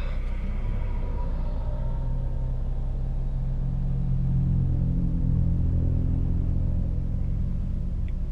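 Car driving in slow road traffic, a continuous low engine and road rumble from inside the vehicle that stays steady and loud throughout, with no speech.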